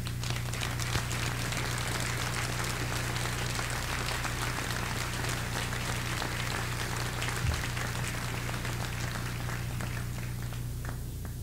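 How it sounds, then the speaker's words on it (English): Sustained audience applause fills a high school commencement at Moshannon Valley Jr./Sr. High School as military veterans stand to be recognized; steady, even clapping from a large crowd over a low constant hum, with no talk. "Round of applause."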